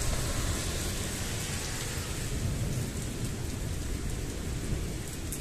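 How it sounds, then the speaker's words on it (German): Heavy rain from a severe thunderstorm over Ingolstadt pours steadily in a dense, close roar, with low rumbling thunder woven through the downpour. No voices. "Weil der Regen doch alles hereinklatscht."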